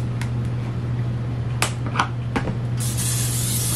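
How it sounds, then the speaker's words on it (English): Short hissing bursts of cooking spray coat a mixer bowl in a kitchen, a few brief spritzes followed by a longer continuous spray near the end, close and clear. "So I'm just going to give this a little spray here"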